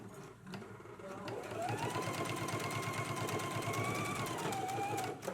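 A sewing machine stitches a jacket sleeve band seam at a 5/8 inch allowance, running as a steady rapid whirring drone with a rising and falling motor tone, and a voice talks over it.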